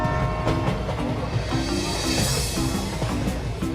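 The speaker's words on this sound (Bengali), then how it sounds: "ওই দেখ ওই ট্রেনটা এলো।" A train pulls in with a loud, continuous rumble and rhythmic clickety-clack of wheels on the rails, heard up close.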